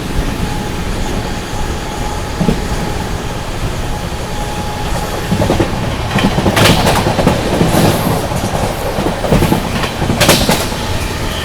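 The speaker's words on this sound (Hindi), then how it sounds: "फिलहाल अपनी ट्रेन बढ़िया रफ्तार में भाग रही है" The Howrah Rajdhani Express on the New Delhi–Howrah route racing through at high speed, heard from inside a First AC coach: a loud, continuous rumble and roar with clickety-clack wheel beats and occasional bursts of track noise.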